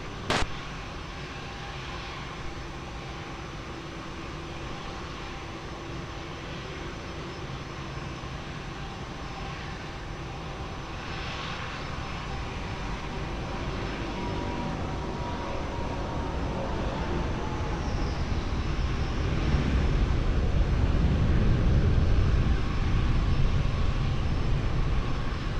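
Airliner engine roar building steadily at Lisbon Airport as a plane comes in to land on runway 20, a broad rumbling drone that swells louder toward the end with no talk over it.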